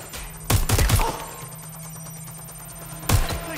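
Gunfire in the video game Watch Dogs Legion: a quick burst of several loud shots, a lull with faint background hum, then another sharp shot near the end.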